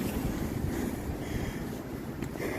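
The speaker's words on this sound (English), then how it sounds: "It's windy, but it feels like a southern wind." Strong southern wind buffets the microphone in a continuous low rumble, gusting and roaring steadily with no other sounds.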